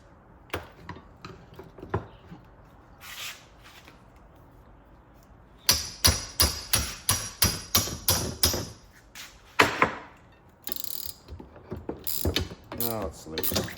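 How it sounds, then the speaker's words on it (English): An old ball peen hammer taps on the stuck electromagnetic brake of a Hoveround wheelchair, starting with scattered metallic knocks, then a rapid run of about a dozen sharp, ringing hits, then more irregular strikes, all close and loud. "Old ball peen hammer there."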